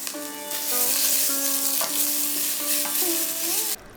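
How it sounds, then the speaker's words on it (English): Onions, tomatoes and chili frying in a pan for a coconut milk curry, with a steady close sizzle and intermittent spatula scrapes under a sustained tonal background that ends abruptly. "Stir for a while."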